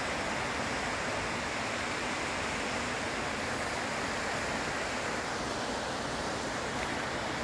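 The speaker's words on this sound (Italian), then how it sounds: "Sì, è cascata." A mountain waterfall roars in a steady, unbroken rush of water, loud and close, filling the scene with dense hissing noise and no pauses.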